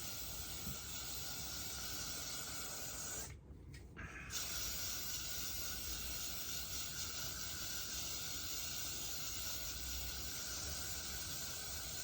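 Hairspray blasted in long continuous bursts onto a Killer Queen costume head dress, a close steady hiss broken by one short pause before the spraying resumes.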